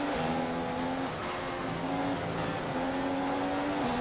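Formula One car in the F1 2015 racing game at Silverstone pulling out of a corner, its engine note climbing through gears in steady rising steps, close and continuous with no talking.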